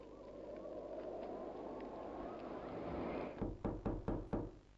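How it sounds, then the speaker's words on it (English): Knocking on a door in the Poppy Playtime video game: a run of five loud, evenly spaced knocks ends a clip that begins with a low droning ambience. "Who's knocking at this hour?"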